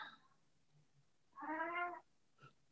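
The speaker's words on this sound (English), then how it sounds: "And that is my cat, who doesn't realize the door next to me is open." A house cat meows in a clear, drawn-out call of about half a second, close by, followed by a shorter faint chirp, with quiet room ambience around it.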